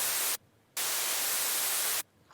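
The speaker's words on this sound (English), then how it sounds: "it's just stereo white noise" Stereo white noise from FM synthesis in the Serum synth hisses loud and steady in two bursts separated by a short gap, then stops abruptly.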